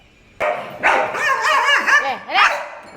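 A Shih Tzu dog barks at street dogs outside, giving several close, loud, high yapping barks in quick succession as people talk nearby.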